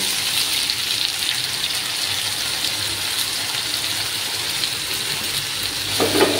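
Spices fry in oil in a pan for a Bengali tangra fish curry with ridge gourd and potato, giving a dense, continuous hissing sizzle at fairly loud level, steady throughout with a brief louder stir near the end.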